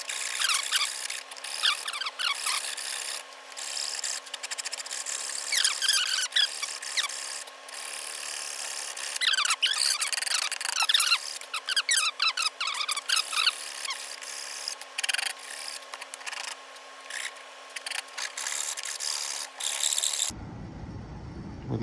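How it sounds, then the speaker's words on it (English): Wood rasp shaping a curve on a bent wood custom floating guitar stand, with repeated rhythmic scraping strokes, close and loud, continuing steadily before stopping abruptly near the end. "We'll get to work with this rasp."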